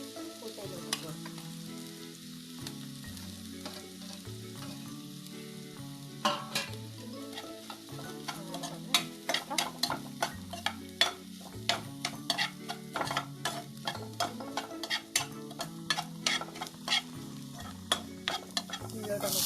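Mustard seeds and a coconut mixture fry in oil for a banana-stem thoran, with a continuous sizzle, a steady stream of seeds popping sharply throughout, and stirring that grows busier midway.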